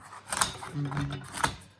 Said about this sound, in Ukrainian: Оце, ножиці. Все оце, буде легко різати.